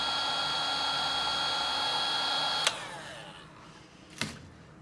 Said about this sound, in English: put all the connections on, and then try and heat shrink them up